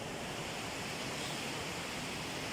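Bariapathara waterfall in Odisha, a constant broadband roar of falling water, loud and unbroken throughout.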